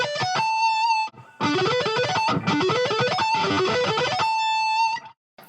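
An electric guitar runs fast ascending sweep-picked arpeggios in clean, bright cascades of notes, with a few sustained ringing tones between the bursts, loud and alone.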